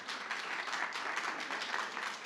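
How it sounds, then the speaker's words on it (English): Audience applause at a startup pitch battle event: dense, steady clapping from a crowd fills the whole stretch at a moderate, even level, with no voices over it. "a round of applause."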